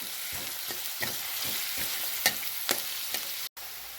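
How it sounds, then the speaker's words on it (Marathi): Chopped onions sautéing in plenty of oil in a pan, with a steady soft sizzle and occasional stirring scrapes and clicks, heard alone at close range. "कांदा चांगला परतून घेऊया"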